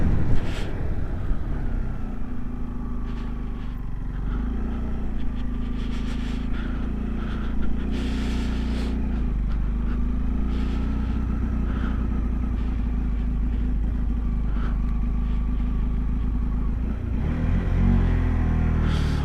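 A heavily loaded motorbike labours uphill on a high, cold mountain pass near Umling La, its engine a steady low rumble throughout with wind buffeting the microphone.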